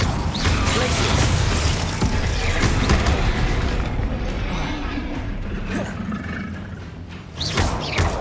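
Glacius ice spell being cast in the game Hogwarts Legacy, a loud crackling, creaking burst with grinding mechanical texture that sustains and then fades, followed by a sharp new hit near the end.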